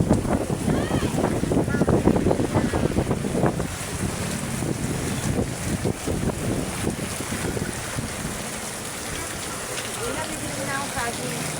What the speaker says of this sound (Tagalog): lamig na, lumalakas na hangin.